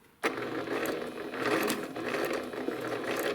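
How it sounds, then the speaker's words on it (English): A sewing machine takes a few stitches while piecing an AccuQuilt Winding Ways quilt block, a brief close mechanical whir that starts abruptly and runs steadily, with no speech. "we're going to put our needle down, and we're going to take about 3 stitches"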